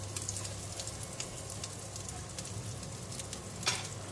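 French toast sizzles quietly in a pan, a soft steady crackle with scattered tiny pops and a faint low hum beneath, left undisturbed.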